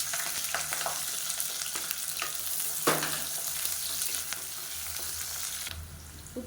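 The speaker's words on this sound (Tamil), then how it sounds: "இப்போ அதில் மீடியம் சைஸாக பெரிய வெங்காயம் நீளமான இருக்குனால சேர்த்துக்கலாம்" Sliced onions sizzling in hot oil alongside cardamom, cinnamon, cloves and curry leaves for a kurma, a steady crackling fry with occasional stirring scrapes and clinks, fairly quiet and close.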